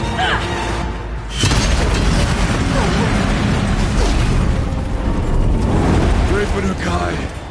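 A bomb goes off in the Frozen Wilds expansion of Horizon Zero Dawn, a loud boom that swells into sustained rumbling and crackling debris, with a voice speaking over the blast.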